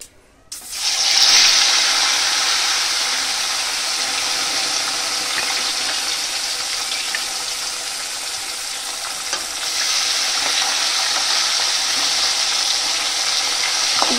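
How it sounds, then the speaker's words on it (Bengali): Fish frying in hot oil in a wok on a stove, a steady loud sizzle that starts abruptly after a brief quiet moment and keeps going with slight swells for the rest of the time. "মাছগুলো আমি ভালো করে ভেজে নিই"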